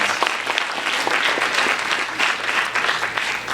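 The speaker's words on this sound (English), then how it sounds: "So give her a special round of applause." Audience applause fills a school induction ceremony, a steady wash of many hands clapping loud and close, with no break for the whole stretch.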